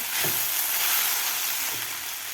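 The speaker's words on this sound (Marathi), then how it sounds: "1 मिनिटभर मी बटाट्याचा किस परतून घेतलेला आहे." Grated potato sautéing in a pan, giving a dense, loud, continuous frying sizzle up close, with a couple of faint stirring scrapes underneath.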